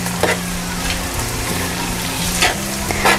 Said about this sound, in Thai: ให้เราใส่พริกค่ะที่เราซอยไว้นะลงไปเลยแล้วก็ใบมะกรูดค่ะ แล้วเราก็คนเลยค่ะ